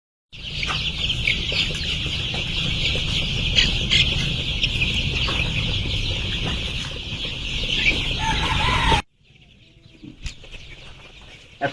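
Chicken chicks in a poultry shed bedded with wood shavings: a dense, continuous chorus of high peeping that stays loud for about nine seconds, then drops abruptly to a quieter background with scattered peeps.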